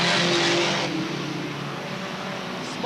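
Stock cars racing at Star Speedway, a loud roar of engines sweeping past early and then settling into a steady, slightly distant drone of cars circling the track.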